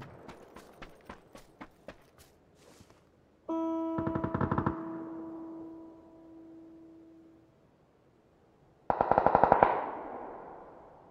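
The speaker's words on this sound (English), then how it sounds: "I can't even tell where those shots are coming from" Distant automatic gunfire in PUBG echoes across open terrain: a faint scatter of shots, then two loud rapid bursts several seconds apart, each trailing a long ringing echo.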